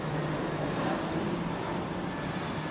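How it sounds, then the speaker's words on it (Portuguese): Airplane passing overhead, a steady broadband roar that holds at a constant loud level throughout, with no voices over it. "E esse avião chegando"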